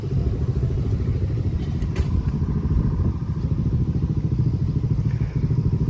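A Ducati Monster motorcycle with twin pipes, filmed in Japan, its deep throbbing twin-cylinder engine loud and close, pulsing steadily throughout with a slight swell as it passes.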